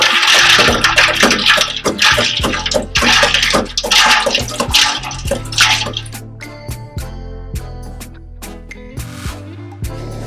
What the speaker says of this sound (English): So I'm going to add some ice and stir it.